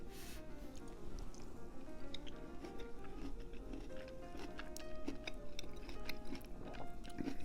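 Close, quiet chewing of marinated eggplant with red peppers and vinegar, soft wet squishing and small crunching sounds in an irregular rhythm, with no talking.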